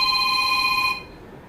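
A mobile phone rings with a bright, steady electronic tone for about a second and then cuts off, leaving a quiet room.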